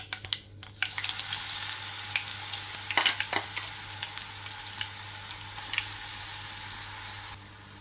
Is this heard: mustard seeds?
yes